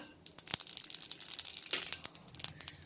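Mustard seeds spluttering in hot oil in a kadhai for a raw mango and onion chutney tempering: faint, irregular crackling pops scattered throughout, with a couple of sharper bursts.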